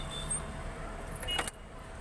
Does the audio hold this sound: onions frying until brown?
no